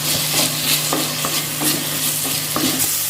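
Chopped tomato and onion fry in a pan with a steady, close hiss and sizzle, broken by a few light spoon scrapes and clicks against the pan, with no voices.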